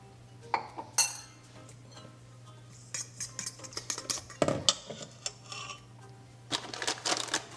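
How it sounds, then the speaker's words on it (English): A utensil stirs seasoning into a cheese and flour mixture in a bowl, giving irregular clinks, scrapes and taps against the dish, close and distinct, with no talking. "And then I'm going to stir."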